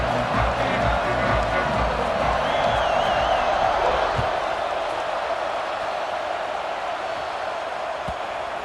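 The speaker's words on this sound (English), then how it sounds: "this crowd is buzzing after that last score" A football stadium crowd buzzes after a score, a broad steady roar with scattered whoops that eases slightly toward the end, heard at a distance without clear speech.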